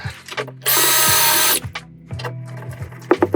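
Power drill driving a screw into wooden staircase boards during a remodel, one loud, close whir lasting about a second, followed by quieter handling knocks.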